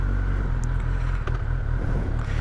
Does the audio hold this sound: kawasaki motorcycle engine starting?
yes